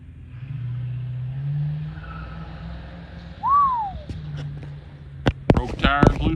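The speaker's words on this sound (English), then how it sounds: "Trying to get sideways in the driveway." A car tries to slide sideways in a driveway, its engine droning low before a single sharp tire squeal rises and falls, followed by clattering knocks and a voice near the end.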